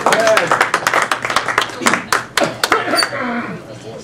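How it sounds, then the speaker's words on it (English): Audience applause for a speaker at an evening talk on a snowy night: a dense patter of clapping from a room full of people that thins out toward the end, with some voices mixed in. "Let's give a warm round of applause for our speaker tonight, Ted Aranda."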